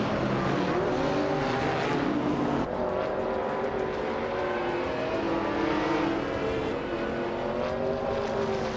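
Group 5 race cars, including a 1979 Chevrolet Monza, roar around the Estoril circuit in a racing video game, with several engines droning and revving together in overlapping, steady pitch sweeps at constant high loudness.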